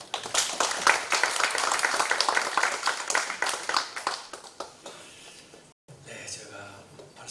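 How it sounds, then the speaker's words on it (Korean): A church congregation at a worship service claps to welcome a pastor to the pulpit, brisk scattered clapping that fades out, then a brief silence and a quieter room. "우리 한 목사님 박수로 환영하겠습니다"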